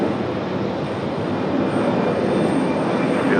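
A jet airliner's engines roar loud and steady at Raleigh-Durham airport, a broad continuous rumble that holds level throughout with no voices.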